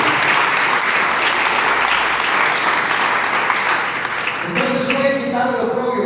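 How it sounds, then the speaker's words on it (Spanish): A church congregation claps in steady, loud applause that goes on for several seconds, with voices rising from the crowd near the end. "Dele palmas al Señor"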